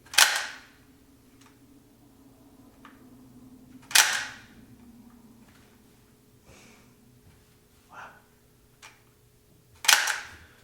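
Three sharp gunshot cracks ring out about four and six seconds apart during a shooting demonstration, each loud and abrupt with a brief tail, faint clicks between.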